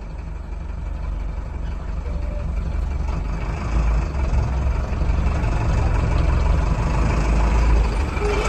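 Heavy tempo truck engines idle with a low, steady rumble close by, growing slightly louder toward the end, with no talking.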